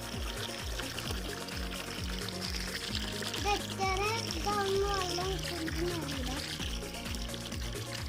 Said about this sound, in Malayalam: നമ്മള് വെള്ളം ഒഴിച്ചു കൊടുക്കാം കേട്ടോ.